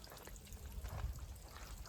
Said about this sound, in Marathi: पाणी चाललंय झाडाला, पाणी चाललंय असं.